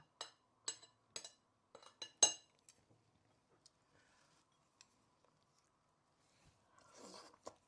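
Crunchy ginger in a soy sauce egg dish chewed near the mouth: a handful of crisp crunches in the first few seconds, then quiet with a faint clink and a soft rustle at the end.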